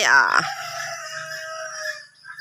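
Chickens on a lime-growing farm in Thailand, heard as a loud rooster-like call at the start trailing into a lingering cackle, with birds close to the recorder.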